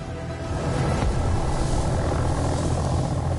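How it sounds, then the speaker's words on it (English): A helicopter in the video game Wolfenstein Cyberpilot gives a loud, steady rotor and engine rumble that swells within the first second and then holds constant, heard without speech. "Wait, that helicopter's actually picking me up."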